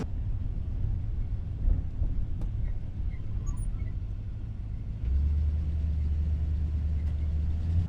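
The engine of an old 6,500-pound van rumbles low and steady from inside, with wind noise and some hesitation, deepening into a heavier drone partway through.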